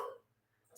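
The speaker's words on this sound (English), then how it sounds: "I've got a dog barking in the background here" A dog barks in the background, a short burst at the start and another at the end, with near silence between.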